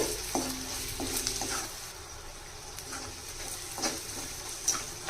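Fried onions being stirred with chili powder and coriander powder in a pan for a mutton brain fry, soft sizzling under a few scraping stirs and light clinks, fairly quiet.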